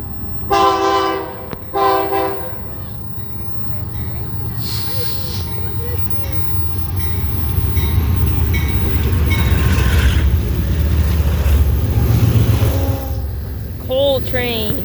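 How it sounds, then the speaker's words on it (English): Loaded coal freight train passing beneath the Napavine underpass, opening with two loud horn blasts, then a building, continuous rumble and roar of rolling cars close by. People talk over it. "Ooh, it's a freight train."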